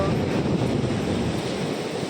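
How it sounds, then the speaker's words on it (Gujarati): A steady, loud wash of surf on Tithal beach, Gujarat, with waves rushing and breaking continuously nearby, mixed with wind noise. "એક જાય ને બીજા આવે આને મોજા કહેવાય દરિયાના મોજા"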